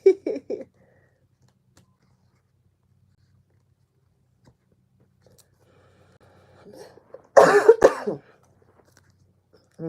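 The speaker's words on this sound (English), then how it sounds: "What am I coughing for?" A few short coughs at the start, then near silence, then a louder burst of coughing and throat clearing close by.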